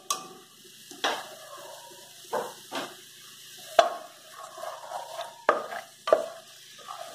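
Garlic and onion frying in a pan, with intermittent sharp clicks and scrapes of a utensil over a low, faint sizzle, spaced unevenly across the moment.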